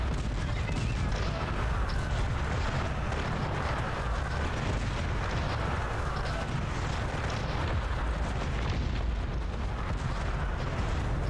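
Dense, continuous battle noise with heavy booms and rumbling blasts of artillery cannon fire in the game Cossacks: Back to War, loud and without pause.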